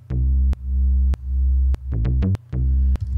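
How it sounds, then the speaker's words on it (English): A synth bass line with no pitch envelope plays on its own, loud, sustained notes with smooth, flat tones, a steady rhythm and quick clusters of shorter notes between the held ones. "So without that pitch envelope, it sounds like this,"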